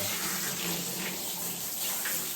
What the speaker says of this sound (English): so make sure you rinse really well